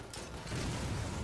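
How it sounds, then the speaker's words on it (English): A rocket launcher fires in the Lost Planet video game, a sudden dense roaring burst that swells midway and sustains loudly to the end. "I will rocket launcher your face off"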